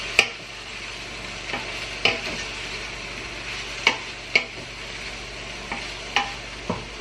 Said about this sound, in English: then I'm going to add my cauliflower into the pot. Just going to give it a stir.